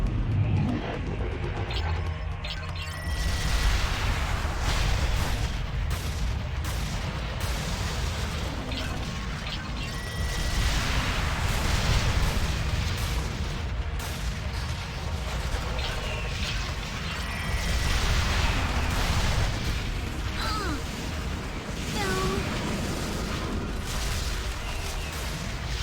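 Rockets fire in the video game Sanctum 2, a dense, loud barrage of booms and rumbling blasts that carries on without a break for the whole stretch.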